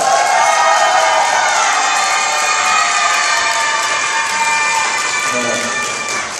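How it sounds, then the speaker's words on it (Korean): Children at an elementary school orchestra summer camp clap and cheer loudly in a hall, a lively crowd of shouts and applause that stays strong before easing slightly at the end. "큰 박수 부탁드립니다"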